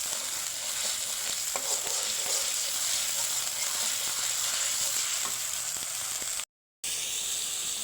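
Ginger, garlic and onion frying in hot oil give a steady, even sizzle with faint stirring scrapes, holding close and constant before a brief dropout near the end.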